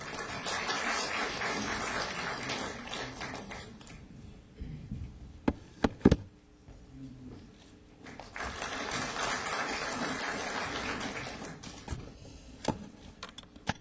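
A ceremony audience claps to welcome Democratic Party leader Sohn Hak-kyu at the third-anniversary commemoration of the October 4 inter-Korean summit. Two dense, sustained bursts of clapping are separated by a quieter lull with a few sharp knocks.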